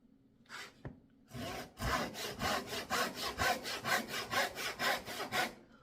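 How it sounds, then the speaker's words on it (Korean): A Japanese-style pull saw cuts through wood in a woodworking workshop, a few tentative starting strokes followed by a run of rapid, even back-and-forth rasping strokes, close and clear with no talking. "그래가지고 톱질을 하는 거예요"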